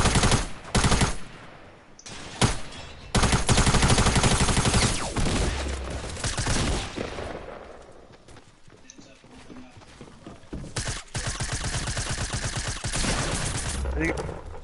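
Submachine gun fire in Fortnite comes in loud, rapid bursts that start and stop, with game noise between them and a person talking over parts of it.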